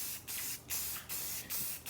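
Spray paint hissing onto a curved Lexan hatch for a second light coat, in four or five steady close bursts with short pauses between them, nothing else audible.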